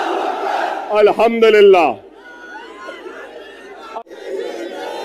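A political election rally crowd in Maharashtra roars back in a loud, brief collective shout, then settles into a lower murmur of chatter; a voice also speaks over the crowd.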